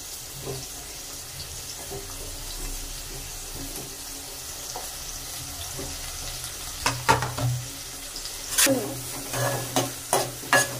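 Onions and green chillies sizzle in a pan for a tomato egg curry while a spoon stirs them. A steady frying hiss runs throughout, and sharper scraping stirs come in bursts near the end.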